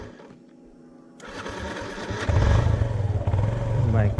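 A motorcycle engine starts up after a quiet moment and runs with a rough, throbbing idle that grows louder and closer. Faint background voices are heard.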